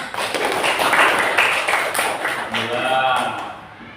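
Classroom applause from a group of students, a burst of clapping that fades out over a few seconds, mixed with voices talking.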